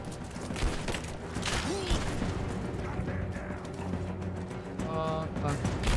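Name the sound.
grenade explosion in a video game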